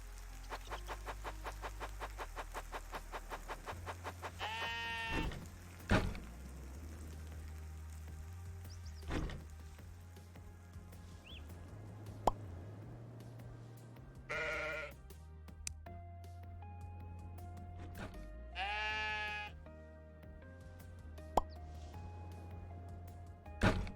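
Several sheep bleat in the game Necesse, with three distinct wavering calls over a low ambient game hum. Faint chicken-like clucks, ticking and clicking game effects run underneath.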